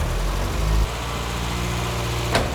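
An MG Metro car engine runs steadily with its air filter refitted and the choke out, a close, even low rumble with no talk and a brief click near the end.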